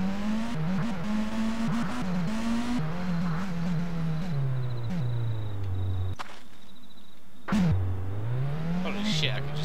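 Car engine in the game Rust, a flame-striped car revving and shifting, rising and falling tones with a brief cut-out, loud and close, with a voice talking over it.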